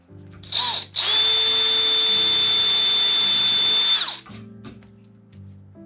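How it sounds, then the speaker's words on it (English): A power drill fitted with a tapered countersink bit bores into wood while building a St. Lawrence skiff, giving a loud, steady high-pitched whine of about three seconds, with a brief burst just before and quieter workshop noise afterward. "This is a fuller countersink with a tapered drill bit, and then it countersinks and drills it out at the same time"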